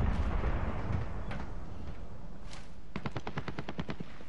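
Gunfire in the video game Warzone: scattered distant shots followed by a rapid burst of automatic fire, with a steady background rumble.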